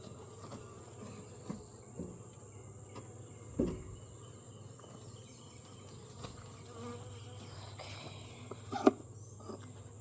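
Honey bees buzzing around an open backyard hive, a steady faint drone close to the microphone, with occasional louder bees passing nearby and no talking.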